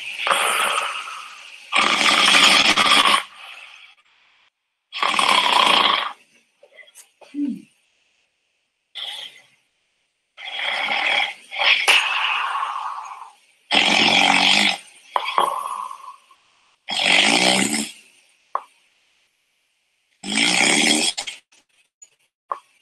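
A woman snoring in loud, rasping bursts, each lasting one to two seconds and separated by quiet pauses, repeating roughly a dozen times in an exaggerated rhythm.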